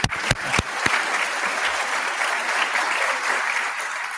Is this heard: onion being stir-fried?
no